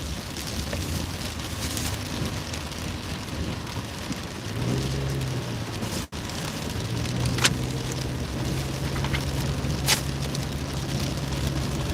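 Steady rain hissing down across the whole stretch onto a wet road, with a low engine hum and a car passing by.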